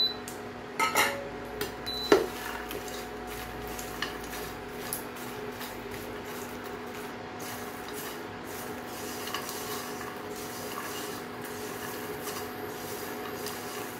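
Makhana (fox nuts) roast in ghee in a pan on low heat, opening with a few clattering knocks of nuts and utensil against metal, then a soft steady hiss continuing alone.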